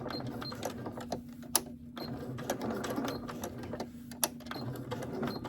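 A sewing machine stitches a handbag in steady rapid runs of needle strokes, close and moderately loud, with brief pauses and a couple of sharp clicks, no talk.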